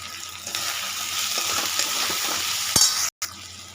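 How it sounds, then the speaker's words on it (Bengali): Masala spices fry with a little water in a pan, a steady close sizzle with soft stirring scrapes that runs throughout and cuts out briefly near the end. "অল্প একটু জল দিয়ে আমি মশলাটা ভালো করে কষিয়ে নেব, যাতে কাঁচা মশলা গন্ধ না আসে।"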